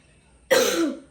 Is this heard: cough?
yes